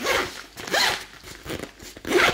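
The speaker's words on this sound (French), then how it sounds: "la fermeture éclair, est-ce qu'elle glisse?" The zipper on a small handbag with little pockets is slid back and forth several times, close and crisp, in quick rasping strokes with short pauses between them.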